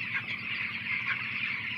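Twelve-day-old broiler chickens in a company-contract poultry farm shed, a dense flock making a continuous chorus of high peeps and clucks at an even level throughout.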